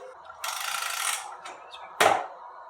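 Ratchet wrench loosening bolts on a new vehicle during a transmission change, heard as a rapid clicking burst lasting about a second, a short click, then a sharper louder snap near the end, close and with no talking.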